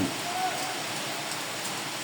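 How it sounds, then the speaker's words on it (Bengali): Light morning drizzle falls steadily on a cloudy day in Gobra, making a soft, even hiss of rain with no voices over it. "সকাল থেকে এইভাবে কুটি কুটি বৃষ্টি পড়ছে গোবরাতে"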